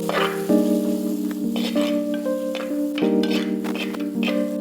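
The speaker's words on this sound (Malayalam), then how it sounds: "ഇതൊന്ന് ഇച്ചിരി വാടി ഒന്ന് വെന്ത് കഴിഞ്ഞാൽ നമുക്ക് അടുത്ത ഇൻഗ്രീഡിയൻറ്റ് ചേർക്കാം" Chopped onions sautéing in oil in a pan for a Nellore-style fish curry, a steady close sizzle and crackle with stirring scrapes, alone without talk.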